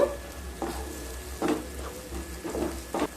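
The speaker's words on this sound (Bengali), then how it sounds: "আবারও নেড়ে নেব।" Kashmiri chili powder and turmeric are stirred in a kadai for kadai paneer: a few soft, spaced scraping strokes over a quiet frying sizzle, close up and with no voices.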